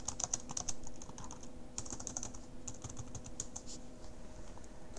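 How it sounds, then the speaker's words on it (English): Typing on a computer keyboard: quick, irregular runs of light clicky keystrokes, fairly quiet and close, with no talking. "Set it down, switch over to typing."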